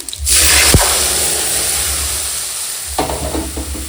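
Boiled dal poured into hot panch phoron spice tempering heavy in radhuni seed, giving a loud sudden sizzle that hisses on steadily while it is stirred, with a scrape of the spoon near the end.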